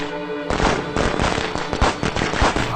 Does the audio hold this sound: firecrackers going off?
yes